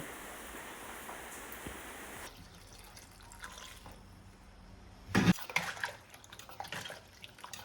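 Water poured into a curry pot of tender jackfruit on the stove, a soft continuous trickle for a couple of seconds, then quieter rustling and a brief louder splash or clatter near the end.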